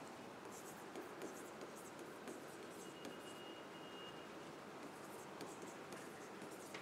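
Pen scratching steadily on paper while a calculation is written out, a soft continuous scribble at close range with no talk over it.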